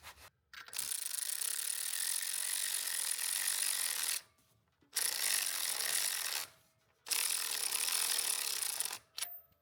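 A ratchet tightens bolts on a 12 valve Cummins engine in a first-gen dually truck, giving loud, close bursts of rapid clicking in three long runs separated by short pauses.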